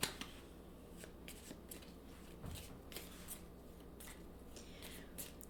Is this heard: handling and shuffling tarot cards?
yes